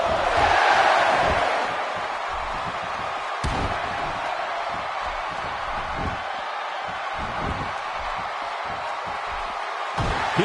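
A wrestling arena crowd roars and cheers in a steady, loud wash of noise that swells at the start, with scattered shouts and thuds throughout.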